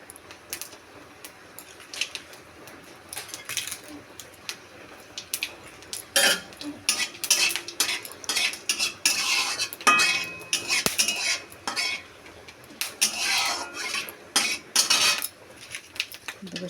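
Metal utensils clink and scrape in a pan as bay leaves go into fennel seeds frying for Bengali biuli dal, with irregular bursts of knocks and stirring over a quiet background.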